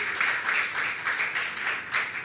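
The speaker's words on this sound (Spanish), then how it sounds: "Un aplauso muy fuerte nuevamente para Kate Barrientos." Audience applause at a live storytelling night for storyteller Katerine Barrientos, a steady, continuous clapping that swells in gentle waves throughout, with no talking over it.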